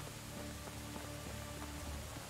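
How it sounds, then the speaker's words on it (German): Steady rain falls in the medieval survival game Medieval Dynasty, a soft continuous hiss with faint scattered drop ticks, quiet and unbroken throughout. "Es regnet immer noch."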